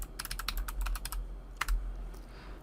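Fingers typing a password on a computer keyboard, a quick run of close, crisp key clicks followed by a pause and a few final taps, with no speech.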